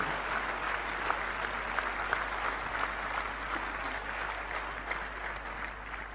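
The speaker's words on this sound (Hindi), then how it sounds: "एक बार आप अपने लिए जबरदस्त तालियां लगा सकते हैं।" An audience in a hall claps loudly and steadily, a dense and even burst of applause that lasts throughout.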